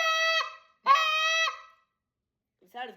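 A deep goose moan call blown through cupped hands by a person, two long resonant hooting tones followed by a shorter one, close and clear with silent gaps between; a human voice imitating a goose.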